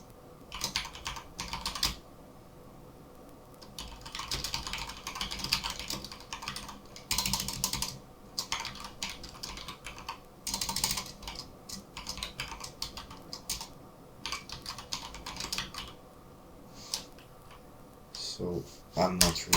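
Bursts of rapid keyboard typing come in clusters with short pauses between, close and fairly quiet, with faint background noise.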